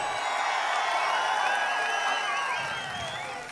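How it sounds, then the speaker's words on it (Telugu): Crowd applause and cheering at a political rally in Puttur, Nagari constituency, a dense wash of clapping and crowd noise that holds steady, then thins slightly toward the end. "గట్టిగా చప్పట్లు కూడా చెప్పండి."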